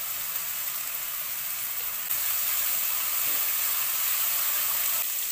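Garlic paste frying in a pan gives a steady, even hiss of sizzling that grows slightly louder about two seconds in and holds at one level to the end, with no voices.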